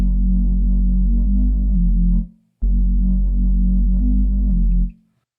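A drum and bass sub bass with added reverb plays in two long, heavy, sustained notes with a short gap between them, deep and distorted with a tail fading out after each.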